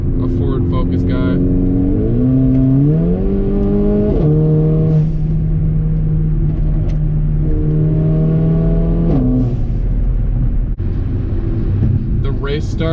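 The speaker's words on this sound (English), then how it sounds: "Definitely love the blow-off valve" Mercedes GLA 45 AMG with a Eurocharged Stage 2 tune revving loudly and repeatedly, engine note rising and holding, with blow-off valve releases between revs.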